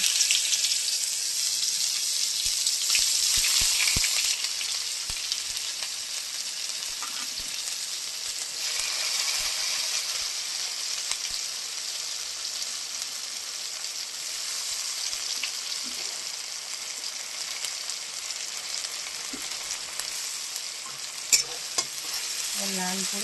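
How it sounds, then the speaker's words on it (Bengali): Onions sizzle steadily in hot oil in a pan where fish has just been fried, a continuous close frying hiss with occasional stirring clinks and scrapes, no talk. "এবার তেলের মধ্যে আমি পেঁয়াজগুলো দিয়ে দেবো।"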